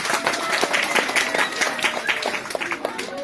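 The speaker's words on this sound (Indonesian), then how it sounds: "Tepuk tangan untuk pemuda." An audience claps for the young people at a community gathering in Helariki, a brief burst of dense, fairly close applause with a voice briefly heard over it.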